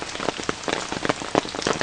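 Steady rain falling in a garden of cantaloupe and bean plants, close and fairly loud, with a dense patter of drops hitting leaves and surfaces throughout and no one speaking.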